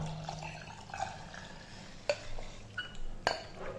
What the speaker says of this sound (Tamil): இப்போ நாம மாவு கரைச்சி வச்சிருந்தோம் இல்லையா, சோளம் மாவு சட்டியில் நம்ம ஊற்றிக்கிறோம்.